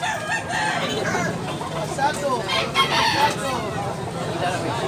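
Several roosters crow over a busy farmyard background of clucking chickens in Tabunok, Cebu, with crows overlapping at moderate distance.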